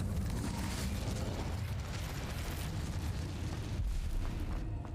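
A fire spell erupts in the Hogwarts Legacy game, a loud, sustained roaring whoosh of flame with rumbling low bursts that swell and fade, heavy and close with a sharp crack near the end.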